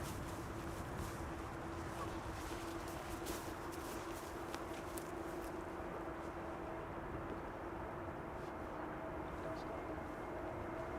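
A jet airliner roars steadily in the distance on arrival at Amsterdam Schiphol Airport, a constant broad rumble with a faint tonal whine underneath.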